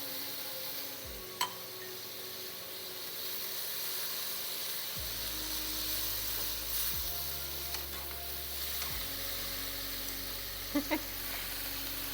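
Better Than Bouillon dropped into a pot of chicken cacciatore, with a steady broad sizzle running throughout, a low hum beneath and a few faint clicks and utensil taps near the end.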